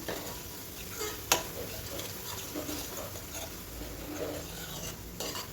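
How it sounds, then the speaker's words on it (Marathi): Masala with coriander powder, for a jackfruit bhaji, fries in a pan with a steady soft sizzle and stirring scrapes, plus one sharp utensil clink early on and light clatter near the end. "तर आपला मसाला हा छान असा फ्राय झालेला आहे"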